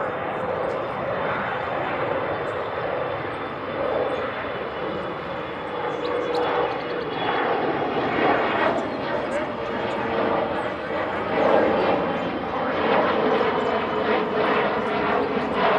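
Jet airliners departing DFW in quick succession, a continuous heavy engine roar with rising and falling swells as aircraft pass, while a person talks over it.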